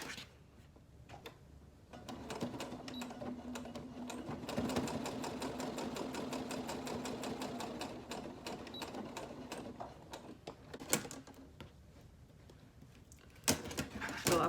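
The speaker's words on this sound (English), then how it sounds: "I'll be sewing on these lines, and this will form the pockets for the pouch." A sewing machine stitches lines through fabric to form the pockets of a small flower-style pouch, a steady mechanical whir running near and loud from about two to ten seconds, with quieter starts and stops and a few clicks around it.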